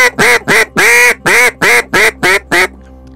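A Zink ATM or MBG duck call with a special style tone channel blows a loud, close series of eight rhythmic mallard quacks, the third one drawn out longer, with no talk over it.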